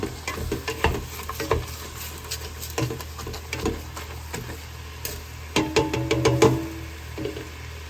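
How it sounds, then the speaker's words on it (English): Ground beef sizzles and fries in a pan while being broken up, with irregular scraping, tapping and stirring sounds over a steady crackling hiss. "Trying to break the ground beef up as much as I can."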